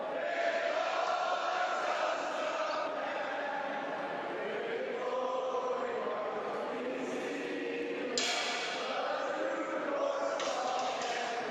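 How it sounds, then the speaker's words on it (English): A sports crowd at a day-one game sings a serenade, a dense sustained wash of many voices with rising swells, steady and loud throughout with no single speaker standing out. "the crowd has started to serenade"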